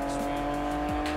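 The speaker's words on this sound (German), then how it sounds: "das Driftverhalten erinnert mich sehr an die Ridge Racer-Serie" A car drifts with a sustained tire squeal in the racing game Need for Speed, its engine droning steadily under the screech for about a second, loud and close, with no voices.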